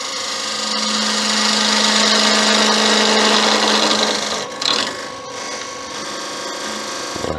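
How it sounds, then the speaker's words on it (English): A skew chisel cutting wood on a lathe while turning a figurine's flat base plate: a loud, continuous hissing shear over a steady motor hum, easing and softening partway through. "I do wish I was better with a skew, because the finished cut you get off it is beautiful"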